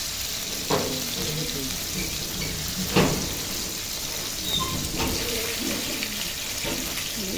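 Pieces of chicken for chicken shashlik sizzle and crackle in hot oil, turned over and over, with a few clattering turns of a utensil breaking the steady hiss.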